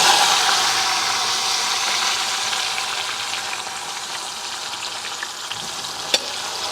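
Salted bitter gourd frying in hot coconut oil, a steady close hiss and crackle of sizzling that holds throughout, easing slightly over time, with one sharp click near the end.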